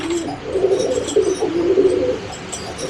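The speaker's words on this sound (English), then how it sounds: "That bird which is flying now," Racing pigeons cooing steadily at a loft, a low throaty coo repeating in near rhythm throughout with occasional faint chirps above, close and fairly loud with no talking.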